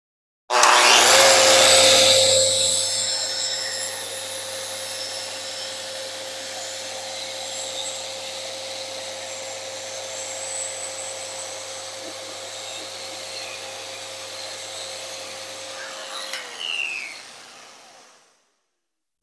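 An orbital sander working white oak with vacuum dust collection runs as a loud, steady whine and rush that starts abruptly, holds evenly for most of its length, then winds down and stops.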